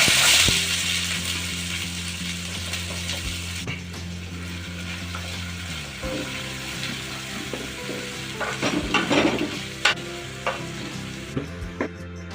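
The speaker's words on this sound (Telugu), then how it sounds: "ఆయిల్ హీట్ అయిందండి. బిర్యానీ స్పైసెస్ కూడా వేసుకుందాం. అలాగే నైస్గా చాప్ చేసుకున్న 3 ఆనియన్స్ కూడా వేసుకుందాం." Three chopped onions fry in hot oil with biryani spices for a chicken pulao, a steady loud sizzle with scraping and clattering stirring sounds near the end.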